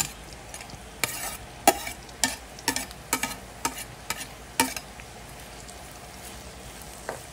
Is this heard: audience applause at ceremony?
no